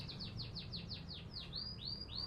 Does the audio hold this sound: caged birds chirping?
yes